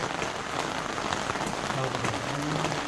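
Light drizzle falling at Uparkot Fort in Junagadh, a soft steady patter of drops on surfaces and an umbrella, fairly close and even, with faint voices underneath.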